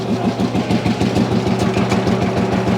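Ursus C45 / Lanz Bulldog tractor, a single-cylinder hot-bulb engine warmed with open flame, running steadily at idle with a loud, close, rapid regular thumping pulse and no talk.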